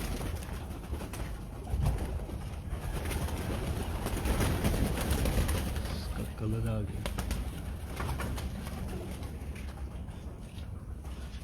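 Pigeons in a Karachi loft coo close by, a soft throaty call with a few repeated pulses, under loud wind and someone speaking Hindi/Urdu.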